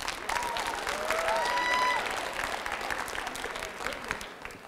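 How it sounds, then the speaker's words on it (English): Audience applause at a high school Mr. pageant, steady and fairly close for most of the clip and thinning slightly near the end, with a few whistles above it. "So let's give another round of applause"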